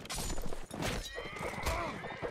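Horses whinny amid the clatter of a Mount & Blade: Warband multiplayer battle, with hooves and combat noise filling a busy mix as players talk over voice chat.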